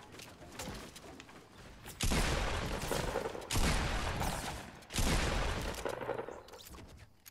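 Gunfire in the video game Fortnite Battle Royale comes as three loud, sustained bursts of rapid shots, each cutting in abruptly and then tapering, over a quieter bed of game sound.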